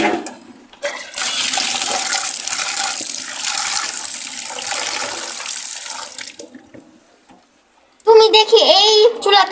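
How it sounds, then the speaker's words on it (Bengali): Running water pours over red lentils as they are rinsed at home, a steady splashing wash that stops briefly before a louder burst of agitated water and clattering returns near the end. "এখন মশারি ডালটা ভালো করে ধুয়ে নিতে হবে"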